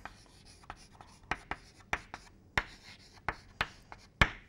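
Marker or chalk writing on a board, a rhythmic series of sharp taps and short strokes about every half second, close and distinct, with no voices.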